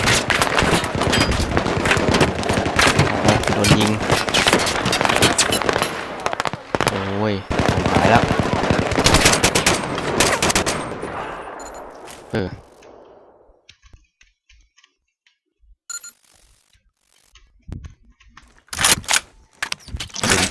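Machine gun fire in the video game Battlefield 3, with dense, rapid bursts of loud gunfire for about ten seconds, then mostly quiet with a few scattered later shots; a player talks over the shooting.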